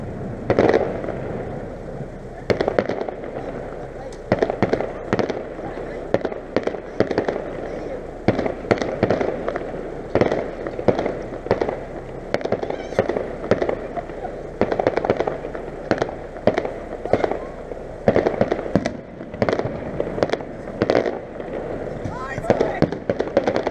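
Fireworks display in Strabane in 2015, with rapid repeated bangs and crackling bursts going off in uneven clusters over about twenty seconds while people talk nearby.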